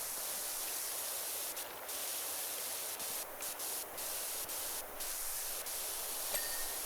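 A pressure washer spraying soap in the video game PowerWash Simulator 2: a steady, hissing jet of spray that runs almost continuously, with brief dips and short breaks, moderately quiet and without voices.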